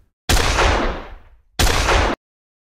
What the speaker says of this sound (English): I've got our gunshot for up close.